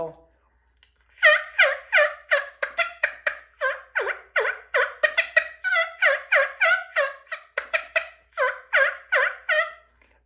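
A rapid series of wild turkey gobbling calls, loud and close, rattles on in quick bursts for several seconds, imitated with a turkey call rather than a real bird.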